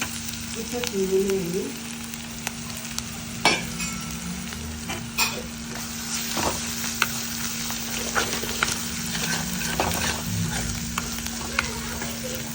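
Ginger garlic paste frying on low heat in a pan, with a steady close sizzle throughout and occasional sharp clinks of a spoon stirring against the pan.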